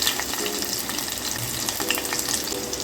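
Cumin seeds and green chillies crackle and sizzle in hot oil for a fasting-day potato vegetable dish, a steady close hiss with faint stirring scrapes throughout and no voices.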